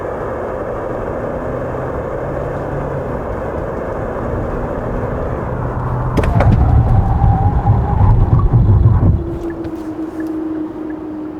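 A Hyundai Palisade Calligraphy with a 2.2 liter diesel engine is driven hard in a braking test: steady road and wind roar builds, then swells into a heavy rumbling stop with tire noise before easing back to a quieter hum.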